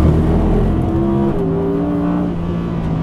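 Audi R8 GT sports car lapping a race track, its engine note loud and close, holding steady with gliding pitch shifts as it drives on, with no talk over it.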